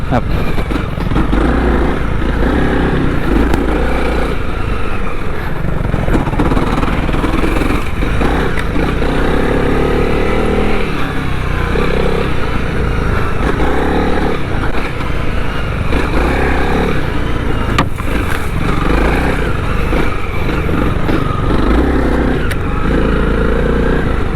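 A 2021 Honda CRF300L motorcycle engine revs hard and continuously as the bike slides on sandy dirt, loud and close throughout with rough fluctuating throttle and some clatter, with no speech over it.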